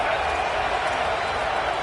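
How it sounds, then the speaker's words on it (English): A packed college football stadium crowd at an Ole Miss versus Oklahoma game roars before a big third down, a dense, loud and unbroken wash of cheering that barely shifts in level. "this crowd is ready"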